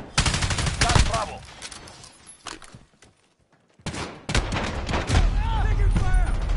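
Close, loud bursts of automatic gunfire and single shots ring out in a Call of Duty match, a dense volley, a brief lull, then renewed heavy firing with shouted voices mixed in.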